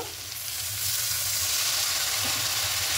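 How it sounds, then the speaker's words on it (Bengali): Cumin, turmeric and chili powder are sautéed in a pan with a splash of water, producing a soft, continuous hiss and sizzle that grows slightly louder after the start. "এবার খুব ভালো করে একটু কষিয়ে নেব সব মশলাগুলো"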